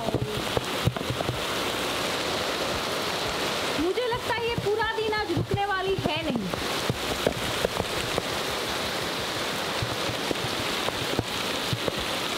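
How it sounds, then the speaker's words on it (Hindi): Heavy monsoon downpour, a dense continuous hiss of rain on surfaces with scattered louder drops, while a voice speaks briefly over it partway through. "बारिश ने लिया है एक नया मोड़, धुआंधार बारिश"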